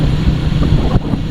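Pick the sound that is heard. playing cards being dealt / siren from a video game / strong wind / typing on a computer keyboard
strong wind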